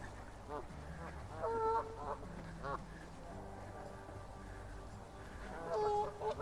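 Ducks on a canal beside a narrow boat give several bursts of honking quacks spread through the clip over a quiet outdoor background, with no one talking.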